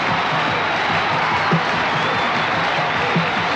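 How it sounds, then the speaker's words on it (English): A crowd at a martial arts demonstration gives a rousing ovation: dense, sustained applause and cheering fills the space steadily throughout, loud and unbroken. "The crowd, in appreciation for the marvelous show he's put on, is giving him a rousing ovation"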